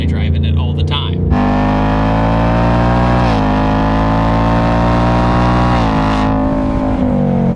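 A 2021 Ford Mustang Mach 1 V8 in track mode roars loud and close with its valved exhaust open, holding a harmonic drone that rises and dips as the throttle changes, drowning out a voice.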